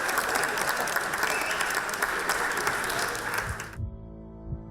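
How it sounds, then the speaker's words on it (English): Polite audience applause closes a campus debate on free speech, a steady round of clapping that cuts off abruptly, leaving a few faint thumps. "that was just polite applause that we get at the end of every debate"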